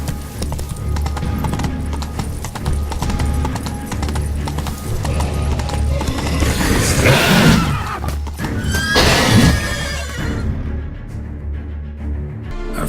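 Roach, a horse in The Witcher 3 video game, trots with steady clip-clop hoofbeats and lets out a loud neigh and whinny midway, with game ambience behind and a quieter tail at the end.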